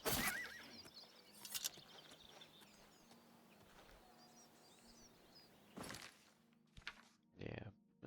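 A horse in the video game Oblivion Remastered whinnies amid clip-clopping hooves and distant birdsong, with several loud bursts near the end and speech in spots.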